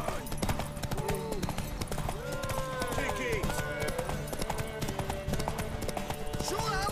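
A horse's hooves clip-clop steadily in The Witcher 3: Wild Hunt on PS4 Pro, an even rhythmic trot running throughout while voices talk over it.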